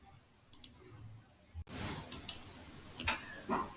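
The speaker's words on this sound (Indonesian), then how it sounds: "Kemudian klik OK." A few sharp, close clicks of a computer mouse while working in SPSS statistics software, scattered singly and in a quick pair against a quiet room background.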